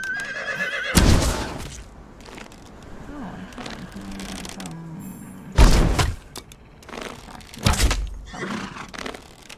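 Horses neighing in the game Conan Exiles, with loud whinnies and heavy thuds and hoof knocks breaking out in a few bursts over quieter game ambience.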